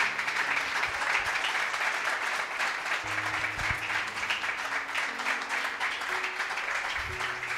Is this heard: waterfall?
no